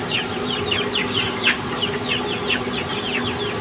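Farm hens and a rooster in a poultry shed give repeated short clucks in a steady rhythm, close by, over a constant background hum, with no one speaking.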